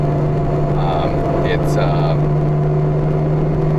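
A Porsche engine droning loudly at low RPM while driving off-road, a steady, constant hum that fills the cabin without a break.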